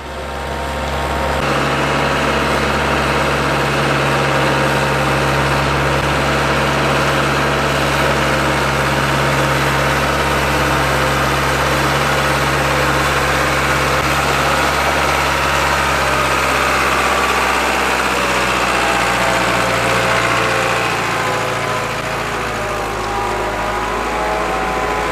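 An International Hydro 85 tractor engine runs at a steady idle during a drawbar test, a loud, deep continuous rumble with a faint shift in pitch near the end.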